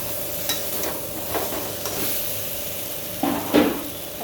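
Raw banana and vegetables stirred and fried in a pan for a rohu fish curry, with a faint steady sizzle and a few soft scraping stirs, the loudest near the end.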